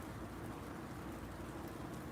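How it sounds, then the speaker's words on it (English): Rain falls steadily as an even, dense hiss of drops on surfaces, constant and moderately faint with no talking. "Look, it's raining."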